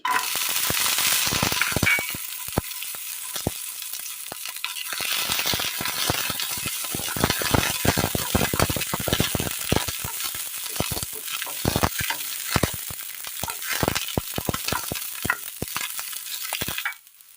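Ghee sizzles and crackles steadily in a hot pan as raisins fry, with dense popping bursts throughout and no voices.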